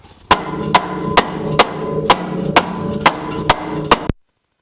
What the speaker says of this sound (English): Okay, so just take that rubber hammer.